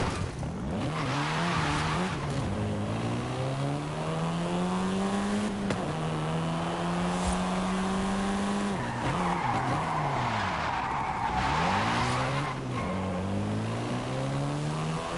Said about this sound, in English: This version is the Volkswagen Golf R,